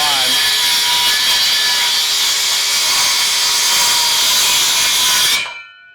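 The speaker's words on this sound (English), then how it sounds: "We call this a plunge cut." A circular saw makes a plunge cut into wood: a loud, steady high-pitched whine runs for about five seconds, then cuts off sharply and spins down.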